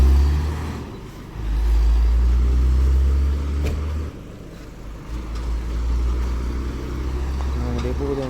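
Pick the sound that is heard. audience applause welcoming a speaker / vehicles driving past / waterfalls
vehicles driving past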